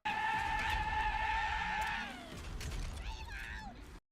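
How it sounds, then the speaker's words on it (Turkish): A video game gun that lets out screams when fired, heard as loud screeching, wailing cries with a few rising and falling squeals over a noisy mechanical din. "Problemli kısmı ise silahla ateş ettiğiniz zaman çığlıklar atıyor."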